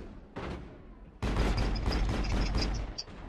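Gunfire in the sci-fi shooter Mass Effect: a brief burst, a short pause, then a loud, sustained volley of rapid shots with bright metallic ringing pings, close and dense.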